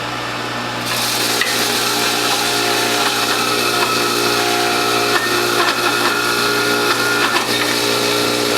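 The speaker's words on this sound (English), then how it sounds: "we'll juice the wheatgrass first. And I'm going to feed in the tip end first." Wheatgrass is fed tip end first into a WHF juicer, a loud continuous grinding and whirring that starts abruptly near the beginning and runs steadily, close and alone.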